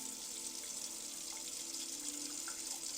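Steady running tap water splashes into a pot of rice being rinsed, a continuous close hiss with faint swirling, no voices.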